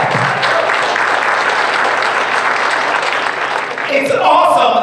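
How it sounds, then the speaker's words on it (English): Audience applause at a business event on growing Amazon companies, a steady broadband wash of clapping that holds loud throughout before voices and noise rise near the end. "you can give that round of applause as well"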